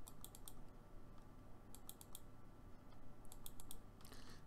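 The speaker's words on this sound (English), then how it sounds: "clicking through each of them" Quick computer mouse clicks while working in statistics software, faint and close, coming in small clusters of three or four sharp clicks separated by short pauses.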